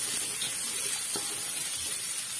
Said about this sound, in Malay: Ini serai. Kita tumis sampai naik bau.